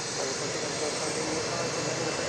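A Southwest Airlines jet taxis at Dallas Love Field, a steady broadband engine roar and whine filling the whole clip without pause, loud and fairly close.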